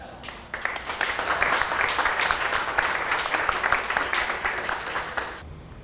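A conference audience claps together, the dense applause swelling in after a brief quiet start, holding steady at full strength for several seconds, then cutting off near the end.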